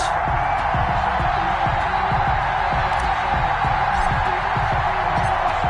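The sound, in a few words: stadium crowd in an American football video game, Lions vs Packers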